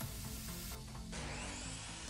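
Pallet-wood boards being cut into a dado joint for a rowboat plank, giving a dense, steady rasping cut that runs continuously and loud across the whole moment with no voices.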